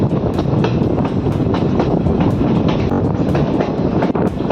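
A long train rumbles steadily through a long tunnel, with continuous loud, enclosed roaring and rapid rhythmic clickety-clack from the wheels throughout, with no voices.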